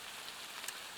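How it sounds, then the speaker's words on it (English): Heavy rain pours down in woodland, a dense, faint, continuous hiss of drops on foliage with a few slightly sharper patters, no voices. "It is chucking it down with rain. You must be able to hear it."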